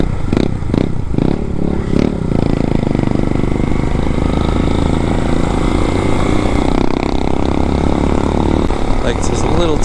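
A Lifan KPX 250 motorcycle with a 249cc fuel-injected overhead-cam engine and six-speed gearbox roars loudly and close as the throttle opens and revs climb, with wind rush and some talk mixed in.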